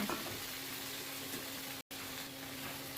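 Chopped tomato and ridge gourd frying in a pan while being stirred, a steady close sizzle with a faint scraping undertone throughout, alone without talk.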